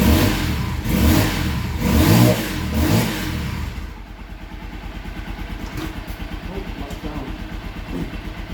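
A 2023 Honda XR150L single-cylinder motorcycle with a 108 main and 38 pilot carburetor jet change, running in cold weather, revs loudly in three rising bursts, then drops to a steady, lumpy idle that holds to the end.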